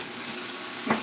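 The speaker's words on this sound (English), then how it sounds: "let me stir this again" Taco filling sizzles in a frying pan as a utensil stirs it, a soft continuous frying hiss with one brief louder scrape near the end, no voices.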